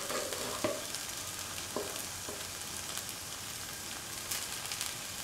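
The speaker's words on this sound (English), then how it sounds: "And mix the rice with the other ingredients" Spicy okra fried rice with masala stirred in a pan over low flame: a steady sizzle of frying with a few sharp scraping knocks of a spoon against the pan, close and alone.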